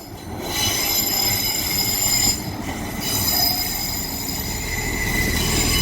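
Northern train 158844 moves through Manors station, loud wheel squeal and metallic rail noise sustained throughout with a brief dip midway, close by and with no talking.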